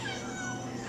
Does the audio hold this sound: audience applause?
no